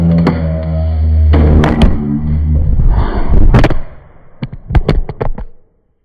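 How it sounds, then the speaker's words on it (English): A cat knocks a phone off a surface at home: a loud clattering tumble with a few sharp thuds and knocks, then a quick series of small rattling impacts before sudden silence. "My cat just knocked my phone off of my"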